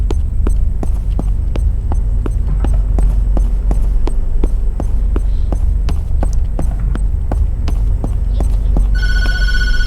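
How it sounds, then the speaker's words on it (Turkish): A telephone rings in the horror video game Tattletail over a low steady hum and a regular ticking pulse, with a brief electronic ring tone emerging near the end. "Aa telefon çalıyor."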